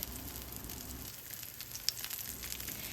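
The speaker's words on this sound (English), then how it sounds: "Then place your salmon fillet skin side down." A salmon fillet sears skin side down in a hot pan with a soft, steady sizzle, faint and close, crackling lightly with a few small pops and no voices.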